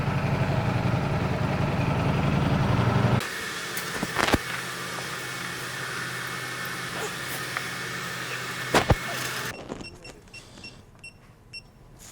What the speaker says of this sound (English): we ran the bike from cold to hot with 3 fan cycles so that the fuel injection can adapt and calibrate itself to the US fuel